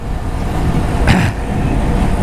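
Aprilia SXR 160 scooter engine pulling steadily while riding, with a constant droning hum and road and wind rush, plus a brief louder surge partway through.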